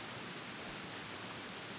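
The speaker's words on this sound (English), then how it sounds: "That sounds like some heavy rain." Heavy rain falls in the video game Lavender Station, a constant dense hiss with no breaks, alone and fairly quiet.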